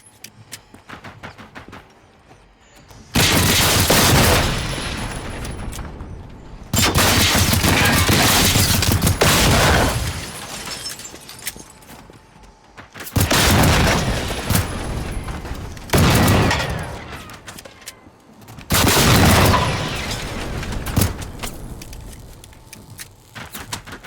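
Gunfire aimed at the player in the video game Generation Zero comes in four loud, dense bursts of several seconds each, separated by short quieter gaps, with no talking.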